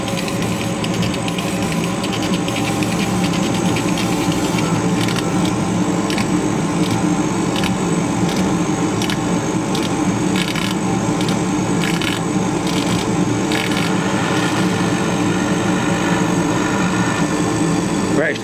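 Laser engraver at work with a weak air assist pump, a dense constant whirring and hissing drone with faint rhythmic ticking, steady and fairly loud throughout.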